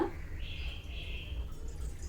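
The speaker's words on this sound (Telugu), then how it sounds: "వాటర్ పోసుకోవాలి" Water is poured into a wide vessel in a kitchen, heard as a faint, short, soft trickle over a low background hum with no talking.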